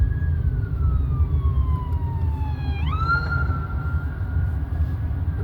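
Police car siren sweeping and wailing as it passes close by on a city street, loud and continuous over steady traffic rumble, pitch dropping then jumping up again mid-pass; no one talks.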